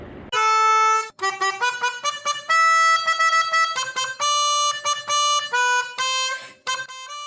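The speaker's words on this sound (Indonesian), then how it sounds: "klakson nyaring itu dibunyikan" A telolet bus horn plays a loud, bright run of melodic tones in quick, uneven bursts, alone and close.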